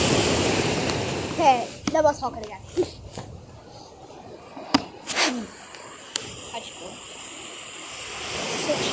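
Big sea waves nearly a foot high break on the shore at Staithes, UK, giving a continuous washing surf with intermittent splashes and wind, while a person speaks briefly over it.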